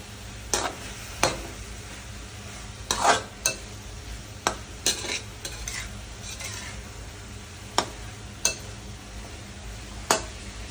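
Chili and vegetables stirred in a sautéing pan of water spinach with string beans and dried fish, a sharp scrape of spoon against metal every second or two over a faint steady sizzle.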